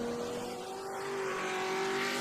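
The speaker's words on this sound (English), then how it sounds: "But look at the speed on that Camaro" A Camaro race car is driving at speed on the Sebring circuit, a loud sustained engine drone with a rising pitch as it goes by.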